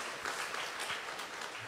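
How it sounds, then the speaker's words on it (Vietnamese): An audience at a business talk gives a speaker a round of applause, heard as a faint, distant, even patter of many hands clapping throughout. "Anh chị đồng ý thì dành cho anh Hải một tràng pháo tay đi ạ"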